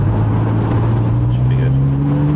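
Porsche 987 Boxster engine revving after a downshift, a strong low engine tone rising steadily in pitch as revs climb, heard from inside the car with a voice speaking over it.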